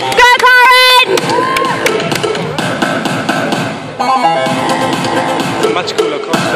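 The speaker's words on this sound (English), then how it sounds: "Please give a round of applause to Karen Abolnik." An audience at a South African national bodybuilding championship cheers, whoops and yells over loud arena music as a competitor is brought onstage, and the noise keeps up throughout with a shouted burst near the start.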